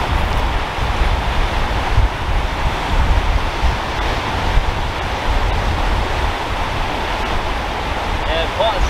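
Sea swell breaking on the shore at Selsey, a loud continuous roar of surf mixed with wind buffeting the microphone, steady for the whole stretch.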